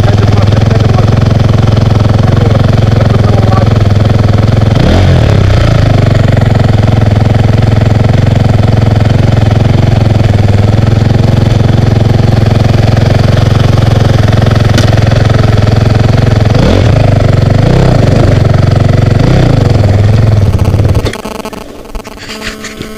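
A motorcycle engine runs at a steady, loud, close idle with a throbbing drone, briefly revving twice, then cuts out near the end.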